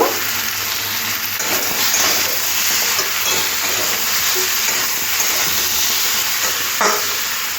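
Chopped Malabar spinach and salt tossed into a pan of sizzling fried masala, producing a loud, continuous close hiss and sizzle with occasional clatters, no voices.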